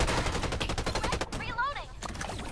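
Gunfire between players in the battle royale game Farlight 84 rattles in rapid automatic bursts, dense and loud at first, then thinning out as a voice speaks briefly in the middle.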